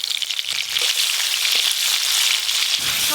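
Chopped tomatoes with salt sizzle steadily in hot oil, the start of a tangra fish curry. A dense, continuous crackle runs throughout, close and even, with no voices.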